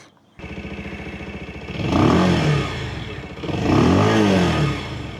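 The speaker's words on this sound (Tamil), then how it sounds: "நெக்ஸ்ட் இப்போ வண்டியை ஓட்டி வண்டியோட ரிஃபைன்மெண்ட் எப்படி இருக்குன்றது நம்ம பார்ப்போம்." A motorcycle engine idles steadily, then revs up hard twice in a row during a test ride to check refinement, each rise swelling loud and close before dropping back.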